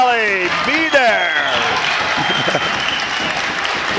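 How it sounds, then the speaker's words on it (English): Crowd applause breaks out in a high school gym during a varsity regional championship basketball game, a steady wash of clapping under a loud, animated announcer's voice. "The crowd responded well."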